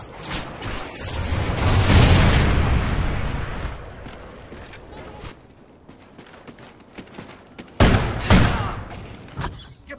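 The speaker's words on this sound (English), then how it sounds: "Friendly Trinity rocket inbound." Explosions from a Trinity rocket strike in a shooter video game, with a long rumbling blast swelling and fading over several seconds, scattered gunfire and thuds, then a second sharp, loud detonation.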